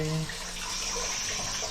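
Water overflowing in a vacation house bathroom gives a steady rushing, splashing flow like a running tap, fairly faint and continuous.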